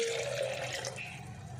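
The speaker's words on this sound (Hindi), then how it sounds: "अब इसमें डाल देंगे पानी।" Water is poured into a pomegranate juice mixture, a steady close splashing pour lasting under two seconds with no talk over it.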